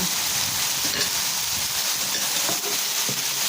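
Kaichoy stir-frying in a hot pan, a loud continuous hissing sizzle up close with faint scrapes of stirring and no talking.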